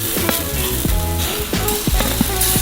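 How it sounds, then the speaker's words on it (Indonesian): Beef patty frying in a hot pan and flipped with a spatula, a loud continuous sizzle with scraping spatula strokes and clinks against the pan, no voices. "Angkat irisan daging dengan spatula, lalu balikkan. Di sisi ini goreng 10 menit."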